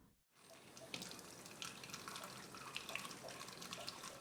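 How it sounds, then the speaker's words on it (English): Tap water runs steadily from a faucet over a LifeStraw Sip filter straw during rinsing, a continuous close splashing hiss with no voices. "Remove the straw and rinse under running safe drinking water from the intake side, which is through the bottom end of the straw"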